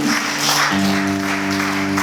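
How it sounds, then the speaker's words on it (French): Church congregation applauding during a French-language worship service, a steady broadband wash of clapping running throughout with sustained music tones underneath. "Applaudissez pour Dieu dans toute la l'église."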